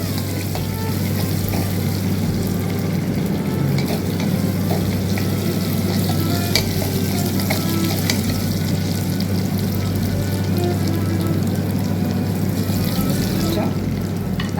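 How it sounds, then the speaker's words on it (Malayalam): Thinly sliced shallots frying in a pan until brown give off a steady, dense sizzle that holds constant and close without a break. "ഈ വട്ടനരിഞ്ഞത് നമ്മൾ നന്നായി കറിക്കൊക്കെ താളിക്കുന്ന പോലെ ഒരു ബ്രൗൺ കളർ വരുന്ന വരെ താളിക്കുക"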